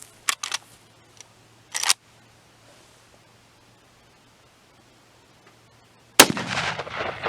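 Shots fired from an old Marlin rifle ring out outdoors: a few sharp cracks near the start, then after a long quiet stretch one loud blast with a trailing rumble.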